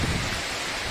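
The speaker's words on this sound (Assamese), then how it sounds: "এয়া বৰষুণত অত্যাচাৰ বতাহ বৰষুণ" Wind and rain in an outdoor Assam cooking spot make a dense, loud, steady wash of hiss and rushing noise that fills the moment with no other sound.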